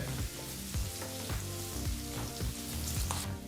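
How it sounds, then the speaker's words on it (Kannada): Chopped onions frying in oil on a medium flame, a continuous sizzle broken by regular scraping stirs of a spatula against the pan, close and clear. "ಮೀಡಿಯಂ ಫ್ಲೇಮ್ನಲ್ಲಿ ಈರುಳ್ಳಿನ ಚೆನ್ನಾಗಿ ಫ್ರೈ ಮಾಡ್ಕೋಬೇಕಾಗತ್ತೆ"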